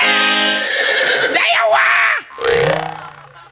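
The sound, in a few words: person imitating a horse neigh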